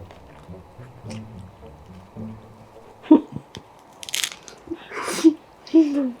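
Crispy seaweed chips in a raw fish rice bowl crunched in several sharp bursts close to the mic, with soft talk and chewing in between.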